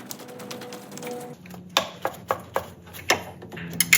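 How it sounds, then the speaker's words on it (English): A wrench is bumped to crack a nut free on a hydraulic belt tensioner of a 1998–2002 Corolla 1.8L, giving a series of sharp metallic taps spaced about a beat apart, near and clear, with no talk. "I'm gonna go for more of like a bump to break this nut free so I don't disturb that"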